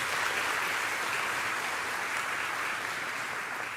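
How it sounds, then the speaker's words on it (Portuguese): Broad, steady applause fills a church gathering, an audience clapping continuously at moderate loudness with no voices over it. "vamos dar uma salva de palmas"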